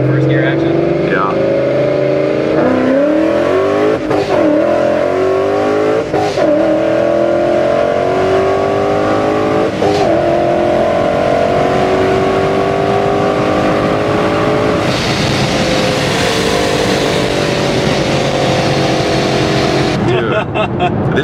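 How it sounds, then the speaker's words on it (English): Boosted car on radial tires and a kill tune pulls hard, its engine note sweeping upward through the gears loud and close, with voices talking over the roar and a change in tone near the end. "I'm about to do a little pull here."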